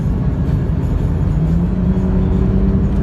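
BMW 335i accelerating on a highway, a loud, steady engine and road roar heard from inside the car, with a rising tone beneath and no talk.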